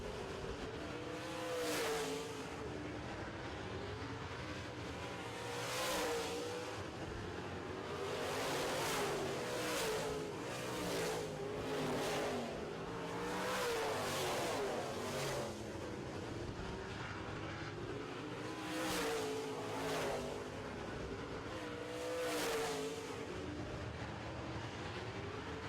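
Late model stock cars roar around an oval track in a 2016 feature race, engines swelling and fading as cars pass in steady waves, one after another, loud and continuous with no voices.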